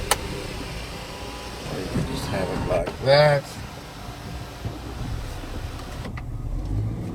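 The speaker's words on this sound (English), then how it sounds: "You can tilt the sunroof." Electric sunroof on a Haval H9 SUV tilting open, a brief motor whir of about half a second heard close inside the cabin, with someone talking before and after it.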